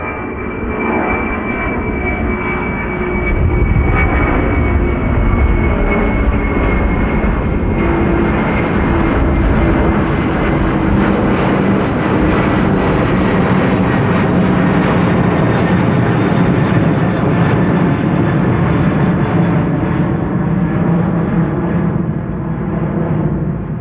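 A jet airliner departing Amsterdam Schiphol Airport roars steadily and loudly for the whole stretch, a dense sustained engine rumble with a faint whine on top, heard close with no talk.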